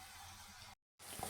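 Cut green chillies fry in oil, a steady hissing sizzle that cuts out briefly to silence before resuming, fairly quiet and close.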